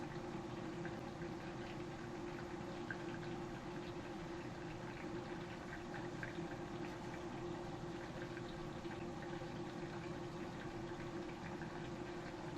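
Battered banana pieces deep frying in hot oil, a steady, even sizzle and bubbling that holds at the same level throughout, close by with no talk over it.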